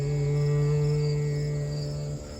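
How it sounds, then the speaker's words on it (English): A harmonium sustains a single note pitched a little higher for the sacral chakra, a bright reedy drone held steadily at close range, then tapering and cutting off near the end. "As you can hear, the note is a bit higher."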